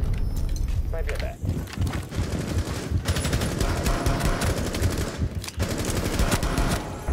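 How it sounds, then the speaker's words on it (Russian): Rapid automatic gunfire from Rainbow Six Siege plays loudly and almost without pause, with dense bursts of shots piling up over steady game noise. "Противник стрелял в стену."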